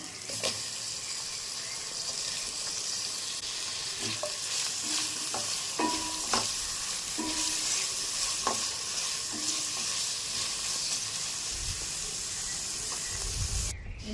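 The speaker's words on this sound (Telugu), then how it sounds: "పచ్చివాసన పోయినంత వరకు ఫ్రై చేసుకోవాలి ఇది పచ్చివాసన అయితే పోయిందండి ఏంటంటే టమాటా వేసుకుంటున్నాను" Tomatoes frying in a pan for catering-style fry piece biryani, a continuous soft sizzle and hiss with occasional stirring clicks, close and fairly quiet, no voices.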